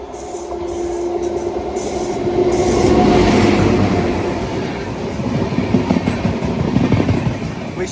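The Visakha Express passing on a crossover in Telangana, heard from aboard a train: a continuous rumble with rhythmic clickety-clack of wheels over rail joints and faint squealing, building slightly then steady throughout.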